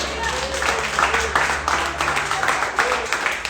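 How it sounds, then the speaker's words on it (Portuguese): A church congregation claps along during a Sunday worship service, the hand claps falling in a loose rhythm under voices and music. "Dá palmas para Jesus."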